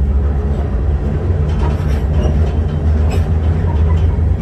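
A train passes close by on a rainy day, a loud, steady rumble with faint wheel clatter that holds level and continuous throughout, with no talking over it.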